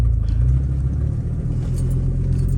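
A pickup truck fitted with a granny gear and an LED light bar sits with its engine running, a steady, close, low rumble with no talk over it.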